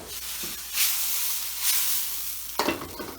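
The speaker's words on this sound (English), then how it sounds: "Now while that's sauteing off" Fried rice ingredients sauté in a hot pan with a steady broadband sizzle and hiss, swelling in brief louder bursts as the food is stirred, then a sharper clatter of utensil near the end; no voices.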